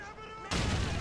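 Gunfire in Call of Duty 4: Modern Warfare starts abruptly as a loud, dense burst of shots and fills the rest of the moment. Before it, game sound plays quietly.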